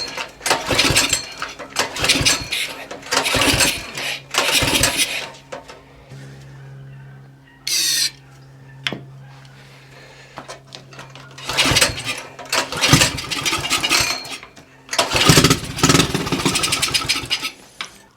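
Axis M200 mini bike engine starting after a no-start fault, sputtering in loud bursts of revving with short gaps between, then catching and running, the throttle blipped up and down close by.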